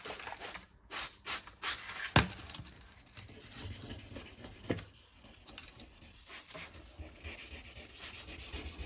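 Hand sanding with 2000 grit sandpaper, heard as quiet, irregular rubbing strokes close by, with a few slightly louder scrapes early on and no talking.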